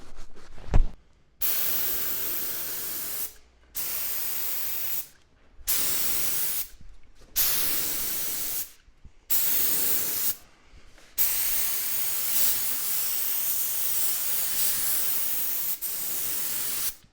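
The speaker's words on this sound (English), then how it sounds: "I wanted to talk a little bit about the pattern that I use to spray." A spray gun laying down pre-catalyzed lacquer hisses in repeated even passes, about six bursts of a couple of seconds each with short silences between, ending in one long continuous spray, close and loud.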